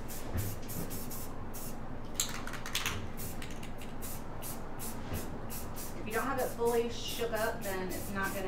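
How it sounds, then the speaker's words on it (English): Short spritzes of gold spray paint over resin, repeated hissy bursts in a quick uneven rhythm, with someone speaking softly over them near the end. "Spritz of gold, like very far away spritzes,"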